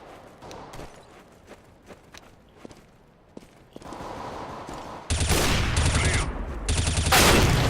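Gunfire in Counter-Strike: Global Offensive, a few scattered sharp shots and footsteps at first, then a loud sustained burst of automatic fire in the last seconds, close and dominant.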